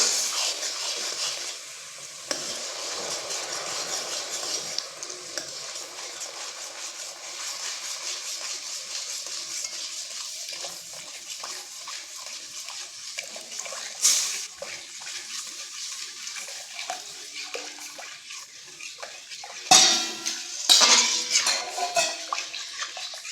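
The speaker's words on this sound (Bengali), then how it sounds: "তাই অল্প অল্প দেবো আর মেশাতে থাকবো" Milk poured gradually into a rice mixture and stirred for a rice kheer, with continuous liquid swishing and spoon scraping against a metal pot, close by, ending in a few louder clanks.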